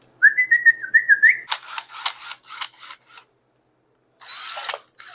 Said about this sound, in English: I'm going to throw that in my drill